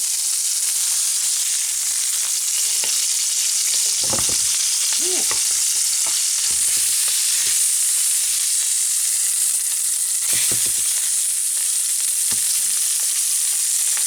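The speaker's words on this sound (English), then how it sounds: "We're going to flip these over." Sous vide mac and cheese stuffed burgers sizzle loudly in a hot pan after being flipped, a steady close frying hiss with occasional soft pops and clicks throughout.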